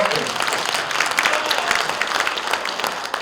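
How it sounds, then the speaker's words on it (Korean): An audience claps throughout at a political lecture about the tablet PC controversy, a loud continuous burst of many hands that stays fairly even from start to finish. "자, 우선 박수 한번 칠까요?"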